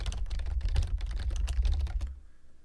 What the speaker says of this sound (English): So I'm going to type that here.